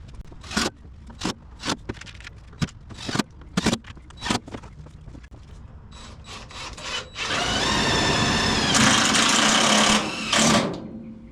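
Sheet metal screws driven into a replacement rear floor panel on a Squarebody K5 Blazer, a series of sharp close clicks and taps followed by a sustained loud buzzing drill run, no talking.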